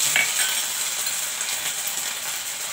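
Whole spices and ginger paste sizzle steadily in a hot frying pan while pointed gourd is cooked for a yogurt curry, a constant close crackle with faint clinks.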